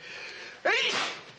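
A person lets out a single sharp sneeze, close and loud, after a moment of quiet murmured background.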